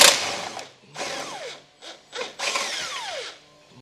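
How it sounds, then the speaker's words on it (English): A 1/2-inch impact wrench loosens a cross member bolt on a 2024 Chevrolet Equinox in several loud, close hammering bursts, each winding down with a falling whine. "I'm using a 1/2" impact."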